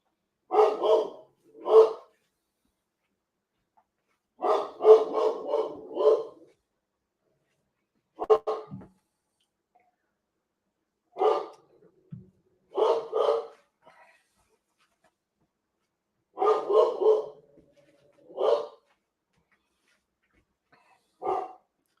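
A dog barks in short bursts of two to four sharp woofs, repeated at irregular intervals with silent gaps between, moderately close with no talk over it.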